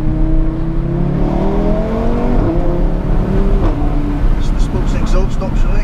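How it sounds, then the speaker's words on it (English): A car engine revs hard under a steady rumble, with its exhaust popping and crackling in short bursts near the end. "Probably hear some pops and crackles like that."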